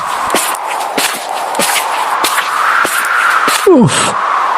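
Footsteps crunch along a dirt path at a steady walking pace, with a quick swooshing sweep near the end.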